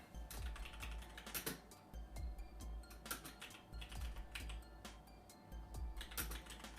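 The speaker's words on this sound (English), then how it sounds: "I don't think I'm typing the right thing, but I'll type this." Rapid typing on a computer keyboard, close and clear, in uneven bursts of key clicks with short pauses, no talking.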